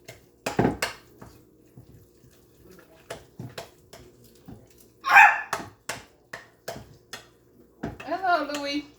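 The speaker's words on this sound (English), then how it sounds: "What you barking about?" A dog named Louie gives a few sharp barks in a home kitchen amid light clatter of dishes, the barks short and fairly close, followed by a voice speaking.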